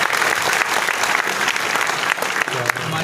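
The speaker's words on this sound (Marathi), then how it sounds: "निवेदिताताईंसाठी आपण जोरदार टाळ्या वाजवूया." Audience applause at a Marathi interview event with veteran actor Ashok Saraf, a dense, steady burst of clapping that stays loud and close for about three seconds.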